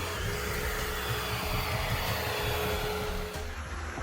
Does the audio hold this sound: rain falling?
no